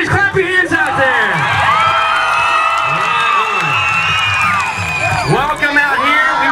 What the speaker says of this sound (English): make some noise. Clap your hands out there.